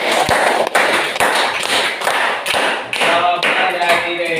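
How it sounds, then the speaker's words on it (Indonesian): A school class applauds a classmate's answer: a dense, moderately loud patter of many hands, punctuated by a few sharper, louder claps throughout. "Bagus, tepuk tangan untuk Rere."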